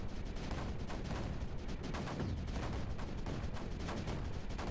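Cannons fire in dense, continuous volleys in the strategy video game Creeper World 4, a steady wash of rapid shots and impacts with no voices over it.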